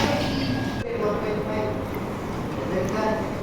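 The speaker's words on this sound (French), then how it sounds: "me voilà dans la station de métro à Dubaï" A metro train rumbles through a Dubai metro station, a steady low mechanical drone with a brief jolt early on and faint higher tones, continuous throughout, while a voice speaks over it.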